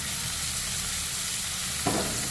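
Ginger, garlic, chillies and onion fry in hot oil with an even, close sizzle, broken by a stirring clatter near the end and a sharp scrape at the finish.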